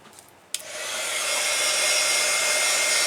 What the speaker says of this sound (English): So I'm going to heat this up and show you how I made it look like that.